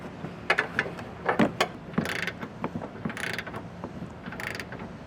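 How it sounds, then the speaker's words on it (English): Ratchet clicking from a 30mm socket snugging a nut on a Roadmaster base plate being fitted to a 2023 Jeep, heard as bursts of close metallic clicks with short pauses and some clanks. "I can go ahead and tighten that nut on the back, just so it's snug. And I am using a 30mm socket to get this tightened on."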